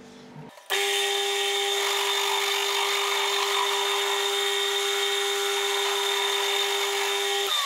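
A lathe turns a steel electric motor shaft, giving a loud, steady whine with a sustained tonal hum that starts abruptly and runs unbroken, alone without talk.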